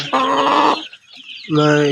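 Chickens cluck loudly and close, two harsh drawn-out calls separated by a brief quieter gap.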